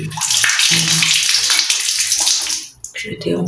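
Water running steadily into a dirty bathroom basin or tub in a neglected house, a loud broad rushing that continues for about two and a half seconds, then dips briefly and resumes.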